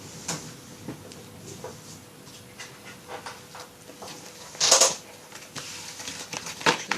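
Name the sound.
shuffling tarot cards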